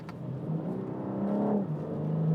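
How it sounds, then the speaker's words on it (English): A 2021 BMW M4 Competition G82 engine and exhaust rev and pull steadily, the tone rising, dipping briefly and climbing again, heard close and fairly loud. "It takes away some of the raspiness of the exhaust."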